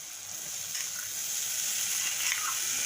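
Cooked masoor dal going into hot, sizzling masala in a pan, giving a steady bright frying hiss that holds evenly throughout with faint stirring clatter.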